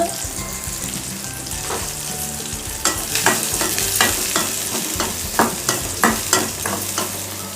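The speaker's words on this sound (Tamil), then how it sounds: "வெங்காயம் நல்லா வதங்கிடுச்சு" Onions sauté with salt in a hot pan, a steady loud sizzle with a run of quick rhythmic scraping stirs in the second half, close up with no voices.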